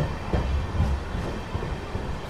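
A crowded passenger train on the Tirupati–Coimbatore Intercity route stands at or rolls through Chittoor station with a heavy, close low rumble and faint rhythmic wheel clatter.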